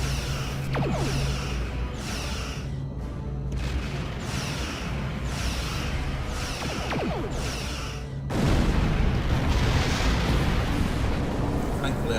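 Torpedo explosions in the space combat video game Star Trek Online, a steady roaring rumble with overlapping blasts that swell louder near the end over a sustained background hum.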